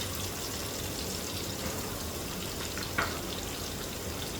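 Cubed chicken fries on a tawa with chopped ginger added, giving a steady, even sizzle and crackle close by. One small clink sounds partway through.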